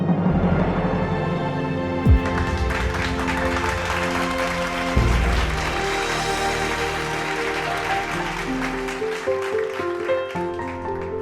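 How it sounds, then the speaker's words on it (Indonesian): Applause at a ribbon-cutting grand reopening of a restaurant, sustained crowd clapping with festive music layered beneath and a couple of thumps, continuous and moderately loud. "Mari tepuk tangannya."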